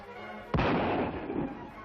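A single sharp gunshot cracks out in dry, open country, its boom rolling and echoing away for over a second afterward, with no talk.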